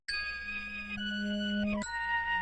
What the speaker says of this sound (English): He used the flute and the bell both from the M-Tron, and that was the outro before the hook